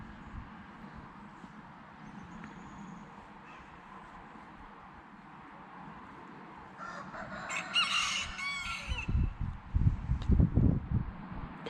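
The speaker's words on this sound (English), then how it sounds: "there's chickens yelling at" Chickens and roosters calling outdoors, faint at first under a low background rumble, then louder clucking and crowing bursts cluster toward the end.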